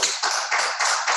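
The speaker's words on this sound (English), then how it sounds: "A big round of applause for them." Crowd applause at a Toastmasters club meeting, a dense wash of many hands clapping in steady bursts that swell and dip roughly every quarter second, close and fairly loud with no voices over it.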